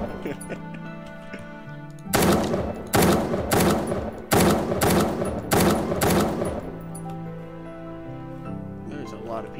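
Automatic gunfire in the Minecraft zombie game, with about five loud bursts of rapid shots spaced across the middle of the clip and a player talking in the gaps.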